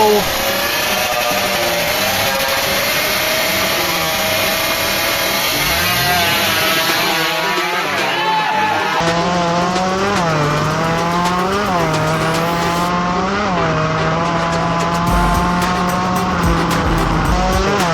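Two-stroke racing motorcycles in a money-game drag race between DGRT and Pataka Racing: a loud, buzzing high-revving whine that climbs through repeated gear shifts, with crowd and announcer noise mixed in throughout.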